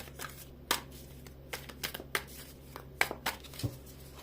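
Tarot cards are shuffled and flicked in short, irregular bursts of crisp slapping sounds, close and quiet, with no talking.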